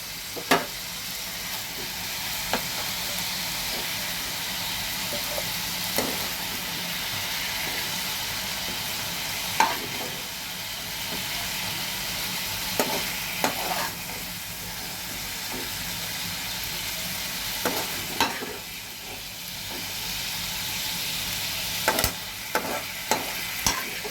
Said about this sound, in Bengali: দেখো চিংড়ি মাছগুলো আমার হালকা করে ভাজা হয়ে গেছে